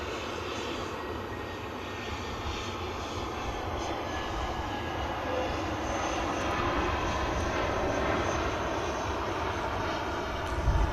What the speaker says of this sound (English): Next to land in from Munich, Lufthansa A321 Neo